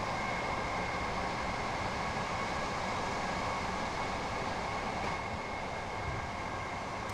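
A passenger train in the Train Sim World video game on the East Coastway route rolls along with a continuous dense rumble and hiss, steady and loud throughout with no voices.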